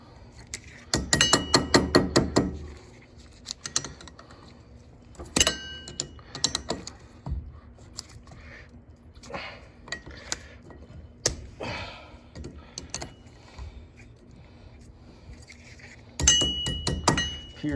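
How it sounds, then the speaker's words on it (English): Metal tools click and scrape while a cotter pin is worked out of a Polaris Ranger rear axle nut, with bursts of rapid rattling clinks separated by quieter fiddling taps. "First thing we gotta do is remove this cotter pin."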